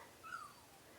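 A single short, high whimper from a dog, faint and brief against a quiet background.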